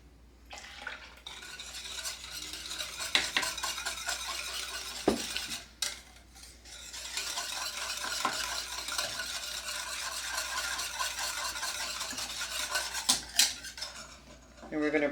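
A spoon scrapes and clinks around a pot as milk is stirred into a cornstarch mixture, steady continuous stirring with a few brief pauses and sharper knocks, fairly close and moderately quiet.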